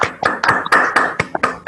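A small group applauding the author at a virtual book launch: about eight sharp, close hand claps in an uneven rhythm, with no talking.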